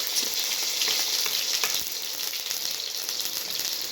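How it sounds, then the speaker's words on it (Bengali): Tomatoes sizzling and frying in a hot pan, a steady crackling hiss with occasional stirring, close and fairly loud. "টমেটোটিকে আমাদের একটু ভেজে নিতে হবে যতক্ষণ না টমেটোটা নরম"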